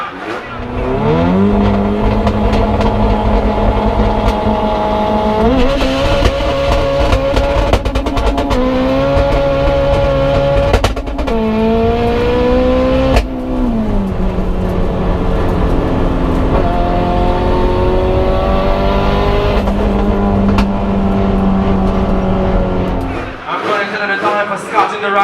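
Drag racing car at Jamwest Speedway accelerating hard down the strip, a loud, sustained engine roar with rising gear-change pitch sweeps over about 23 seconds, then cutting off abruptly, with an announcer talking over it.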